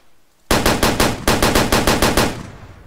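An anti-aircraft gun mounted on a UTV in the Way of the Hunter video game fires a rapid burst of about a dozen loud, booming shots in an even rhythm, starting abruptly and fading after two seconds.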